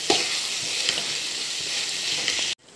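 Tomato and egg curry with onion greens simmers and sizzles in a pan, a steady close bubbling hiss with a few soft stirring clicks, cut off abruptly near the end.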